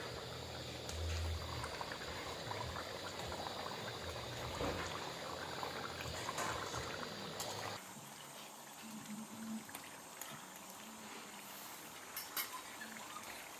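Pabda fish curry with potatoes simmers in a pan with cumin and coriander leaves, giving a faint, continuous bubbling and burbling that drops slightly in level partway through.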